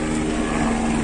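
Steady, loud droning rotor and engine noise from a helicopter overhead, continuous and unbroken, with no voices.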